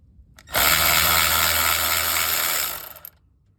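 A ratchet spins hard for about two seconds to loosen the 9/16 battery cable nut on a square-body truck's mini starter, a loud close buzzing rattle that starts abruptly and cuts off.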